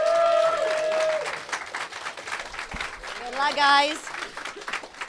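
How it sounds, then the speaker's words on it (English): An audience at a Bugglebots 2018 robot combat event cheers and applauds the competing robot teams, a broad crowd wash with a voice speaking over it. "Let's give a big cheer for them."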